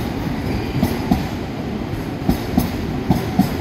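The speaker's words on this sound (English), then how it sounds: "this one is a bi-mode, which means you can run on both diesel and electric, but it's primarily electric" A bi-mode electric locomotive, a sister design to the diesel Class 68, runs on electric power through Carlisle, giving a steady low rumble punctuated by a regular series of rail-joint clicks, fairly close and continuous with no talk.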